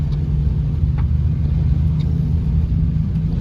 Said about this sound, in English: The truck handled the bumps of the railroad track pretty decent.